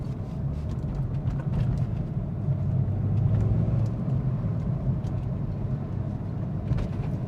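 Inside a BMW E46 M3 coupe with the SMG II gearbox, a steady low engine drone and exhaust rasp rumble underneath as the car drives along, with a few faint clicks and rustles over it.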